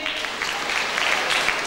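Audience applause fills the moment at a 1996 Ilinden Days Macedonian celebration in Sydney's Hurstville, a steady roar of many people clapping at close range.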